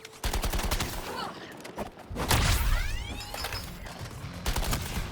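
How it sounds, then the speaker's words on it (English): Suppressing gunfire in the Suicide Squad: Kill the Justice League video game, loud rapid bursts with whooshing energy sweeps and impacts layered in a dense mix, without clear speech. "Suppressing fire initiated!"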